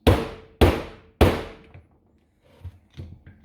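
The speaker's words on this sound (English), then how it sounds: "You can grab your hammer and hit it" A hammer strikes a rusty bolt on a Webasto Thermo Top heater three times in quick succession, loud ringing metallic clanks each decaying away, followed by a few faint knocks and handling sounds.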